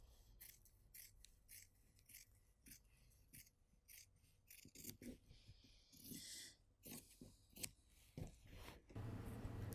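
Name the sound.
scissors cutting fabric for mittens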